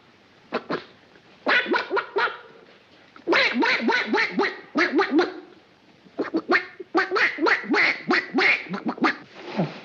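A voice imitates a duck, giving bursts of rapid nasal quacks in several loud, close runs separated by short pauses.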